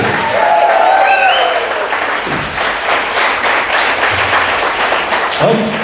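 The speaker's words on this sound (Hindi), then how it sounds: "एक अच्छी ताली प्रभु के लिए जोर से चिल्लाते हुए" A church congregation applauds loudly and continuously for several seconds, a dense, sustained wash of clapping with some voices calling out over it.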